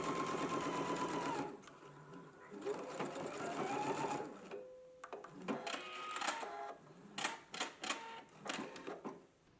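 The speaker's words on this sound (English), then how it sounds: "we're going to go to the machine and we're going to stitch close to this opening" A sewing machine runs in quick bursts of straight stitching along a fabric seam, its motor whirring and needle clattering close by, broken by pauses and small mechanical clicks, with someone talking over parts of it.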